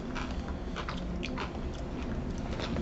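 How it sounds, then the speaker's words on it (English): Someone bites into a Reese's peanut butter cup with salty potato chips inside, making soft, close crunches and chewing sounds that come in a few quick bursts over a quiet background. "when you do bite down on the peanut butter cup, you definitely feel the crunch"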